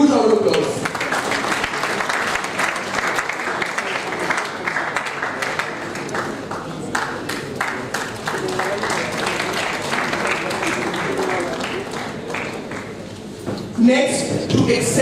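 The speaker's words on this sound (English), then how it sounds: "May we please welcome ma'am with a huge round of applause." Sustained applause from a conference audience at a national academic event, steady dense clapping lasting the whole stretch with a brief swell near the end.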